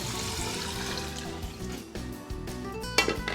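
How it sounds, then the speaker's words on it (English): Pure water poured from a container into a stock pot on a stove, a steady close splashing wash that runs throughout over a low kitchen hum, ending with a few sharp clinks near the end. "Some pure water here to pour on top of it."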